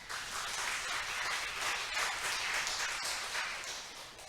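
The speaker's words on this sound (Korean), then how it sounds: "박수 한번 치겠습니다" A church congregation applauding at a Sunday worship service to congratulate a family: a continuous, dense patter of many hands clapping, even and moderately loud throughout, easing off slightly toward the end.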